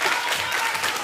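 A brief, dense burst of audience clapping after a stage performance, sustained and close for about a second.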